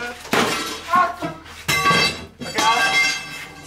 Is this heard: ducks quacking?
no